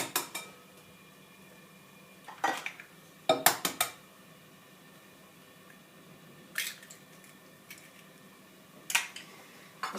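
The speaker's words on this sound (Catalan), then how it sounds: "En aquest bol hi trencarem d'un en un els 5 ous." Five eggs cracked one at a time into a mixing bowl for a basic chocolate cake, giving sharp separate taps and clinks against the bowl spread across the clip, with short wet drips and squishes in between.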